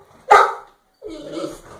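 A puppy gives one sharp, close bark followed by a longer whining yip, with a short silence between them.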